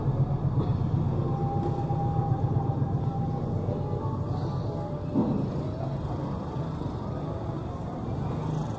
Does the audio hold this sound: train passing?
yes